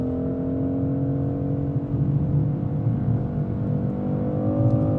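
A 2025 BMW X3 M50 with its B58 engine pulls hard under acceleration, a steady close-up drone of rising engine tones and deep low rumble heard from inside the cabin, continuous throughout with no talking.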